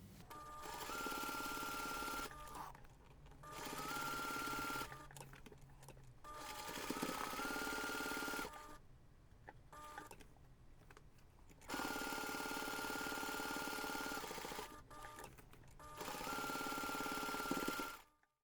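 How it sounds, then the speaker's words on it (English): A sewing machine bastes the pockets of a large jewellery pouch in several steady, close whirring runs of a few seconds each, separated by short pauses. "we're going to take this to the machine and we're going to baste the pockets around all sides"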